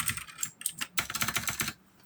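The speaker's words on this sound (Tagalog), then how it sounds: "Usually ginagamit sa data entry itong mga blue switches, no? And maingay siya." Fast, clicky keystrokes come from a MageGee MK-Box 65% wired mechanical keyboard with blue switches and 68 keys. Close and crisp, they arrive in quick uneven bursts with short pauses between them.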